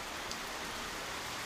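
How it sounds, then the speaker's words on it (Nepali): Heavy rain driven by wind during a storm, a steady, even roar of falling water on surfaces close around, unbroken and without voices. "हावाहुरी पनि चलिरहेको छ, पानी पनि एकदम परिरहेको छ।"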